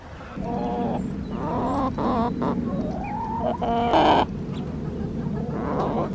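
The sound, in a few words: chickens singing and clucking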